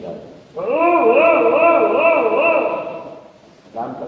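A man imitates a dog with his voice, giving one long, sustained, wavering howl-like bark that fills most of the moment, followed by a shorter second burst, close and loud.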